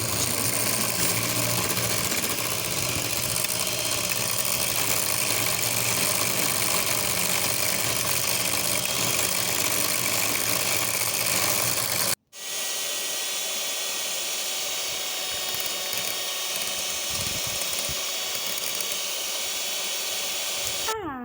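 An electric hand mixer whirs continuously while blending a homemade fenugreek and neem deep conditioner, loud and steady, briefly cutting out and then resuming.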